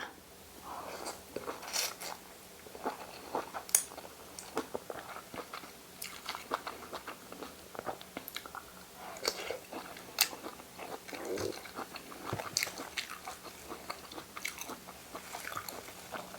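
Glass noodle fish ball salad eaten by hand, soft wet chewing and biting repeating steadily at close range, with occasional light clicks and little talking.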